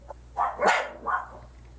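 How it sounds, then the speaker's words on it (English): Dogs barking and snarling outdoors in a fight, a few loud rough barks in quick bursts at middle distance over a steady low hum. "dogs fighting"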